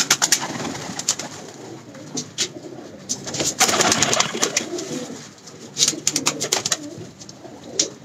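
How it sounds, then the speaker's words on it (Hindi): Kasuri pigeons coo in low, throaty murmurs over a busy background of clicks, rustles and scattered chirps, fairly close, without talking. "ये जी कसूरी कबूतर है, देखें आप"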